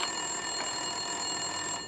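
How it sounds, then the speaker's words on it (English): An office telephone rings in the video game Max Payne 2, a steady electronic trill heard alone and fairly faint, with repeated bursts across a couple of seconds. "Winterson's phone was ringing."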